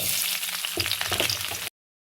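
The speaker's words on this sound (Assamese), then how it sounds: "এইটো কেৰাহীতে মই এতিয়া প্ৰথমতে পিঁয়াজ ঢালি লৈছোঁ" Onions frying in a hot kadai give a steady, bright sizzle, close and continuous, with a few brief crackles before it cuts off abruptly.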